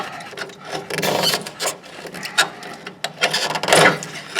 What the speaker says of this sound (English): So I just cut through the rubber.